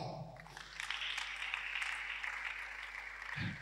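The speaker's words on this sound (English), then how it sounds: "give the Lord a clap." Congregation clapping in a church service, a dense steady wash of hands that carries through the whole stretch at moderate level, with a low voice or thump briefly rising near the end.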